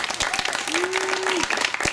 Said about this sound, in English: he deserves our applause and acclaim